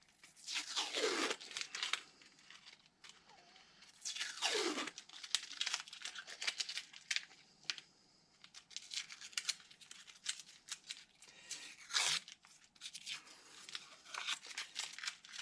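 Adhesive tape being peeled off in several long ripping strips, with crinkling and rustling between pulls, close and fairly quiet.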